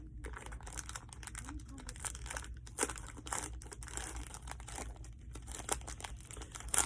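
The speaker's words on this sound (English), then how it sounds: "Let's tear this bad boy open." A foil pack of 2020 Donruss Optic trading cards is torn open up close, with dense crinkling and rustling of the wrapper and a few sharper ripping bursts, faint overall.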